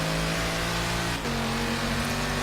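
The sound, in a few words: sports car engine in a video game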